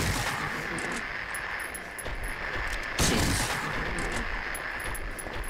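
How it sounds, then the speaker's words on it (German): Gunshots in the PS2 survival horror game Silent Hill 3, with sharp reports over a steady noisy background and one louder blast near the middle. "Auf den musst du schießen."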